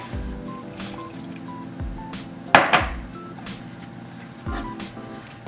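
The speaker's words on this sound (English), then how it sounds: "To that I add 3 tablespoons of apple cider." Apple cider poured into dry stuffing mix in a bowl: a brief liquid splash and trickle, with soft clinks of kitchenware around it in a quiet kitchen.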